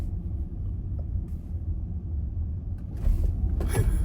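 A heavy electric car of over 500 horsepower and about 2.5 tonnes pulls away hard in sport mode, giving a steady low rumble that swells slightly near the end with a faint whine, close and without talk.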